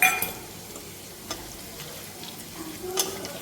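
Whole cumin, a bay leaf, dry red chilli and whole garam masala sizzle in hot oil after prawns have been fried, giving a soft steady crackle with a few sharper pops and light stirring, no voices.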